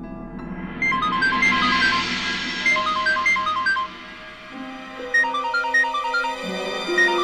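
A phone ringtone for an incoming call plays a repeating electronic melody in a tense TV drama scene. It rings clearly with no talking over it, and a low musical background sits underneath.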